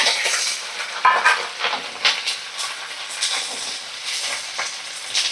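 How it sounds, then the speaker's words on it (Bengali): Grated coconut and curry leaves fry in hot mustard oil over a medium flame for mung dal khichuri, giving a steady crackling sizzle broken by frequent sharp scrapes and clinks of stirring. "একদম মিডিয়াম ফ্লেমে রেখে দিয়ে একটু ভালো করে ভাজা করে নেব।"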